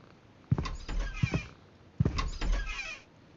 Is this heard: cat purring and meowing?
yes